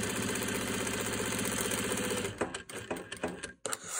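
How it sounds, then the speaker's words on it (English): A sewing machine stitches the nose-wire pocket of a homemade fabric face mask, a steady close mechanical whir for over two seconds that then breaks into short stop-start bursts of stitching. "you will want to sew the pocket for the wire"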